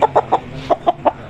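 An old-bloodline Aseel rooster gives six short, evenly spaced clucks, close and moderately loud, with a brief pause midway.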